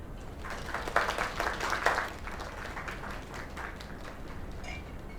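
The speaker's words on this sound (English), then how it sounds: "Another round of applause." Applause from a crowd in the video game Lake, steady clapping that swells early then settles into lighter, continuous patter.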